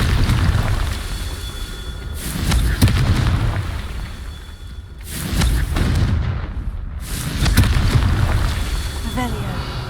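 Confringo explosive spell in Hogwarts Legacy bursting repeatedly, heavy booming blasts rolling out in waves over a dense game soundscape, with a voice talking now and then beneath the explosions.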